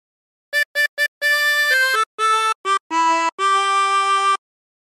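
A harmonica plays a short phrase, with clear, close single notes: three quick blips followed by longer held and bent tones, alone with no voices.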